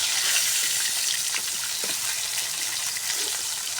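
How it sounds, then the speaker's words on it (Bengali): Two pieces of fish frying in hot oil give off a continuous, close sizzle with faint crackles scattered through it and no voices over it. "দুই পিসটাই লাল করে সুন্দর করে ভাজে নিয়েছি।"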